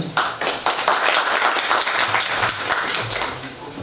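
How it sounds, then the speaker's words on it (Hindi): An audience claps before a stage play begins, a steady, fairly loud wash of many hands applauding together that swells quickly and then gradually thins toward the end. "आप बहुत अच्छे से तालियां बजाइए जिससे कि उनका उत्साह बढ़े"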